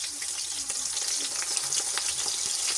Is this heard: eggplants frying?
yes